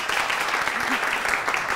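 Studio audience applause, a brief, steady, dense burst of many hands clapping at an even level with a faint voice underneath.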